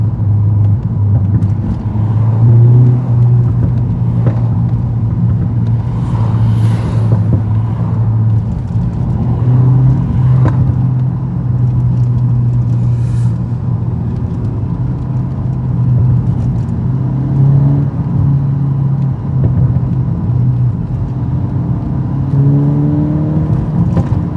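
Straight-piped 2024 VW MK8 GTI with its muffler deleted, a loud steady low exhaust drone that swells in repeated revs and surges throughout, heard up close with no talking.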